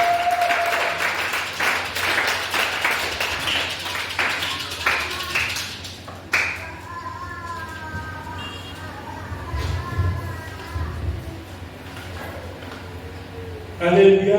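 Church congregation in Lubumbashi clapping loudly for several seconds under a speaking voice, then the applause fades into quieter tones and voices.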